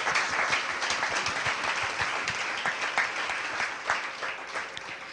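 A church congregation applauds during a sermon, a loud, sustained crowd of clapping hands that holds steady and tapers slightly near the end.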